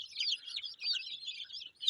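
Village chicks on a poultry farm peep in a busy, overlapping chorus of high, rapid chirps that stays continuous and fairly soft.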